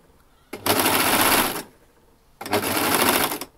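A sewing machine stitches elastic onto a swimsuit in two loud, steady runs of about a second each, separated by a brief quiet pause, with no talking.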